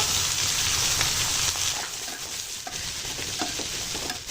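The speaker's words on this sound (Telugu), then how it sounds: "ఈ ఉల్లిపాయలు మంచిగా నూనెలో మగ్గాలండి" Chopped onions fry in hot oil for a chicken curry, giving a steady, close sizzle with light stirring scrapes scattered through it and no talking.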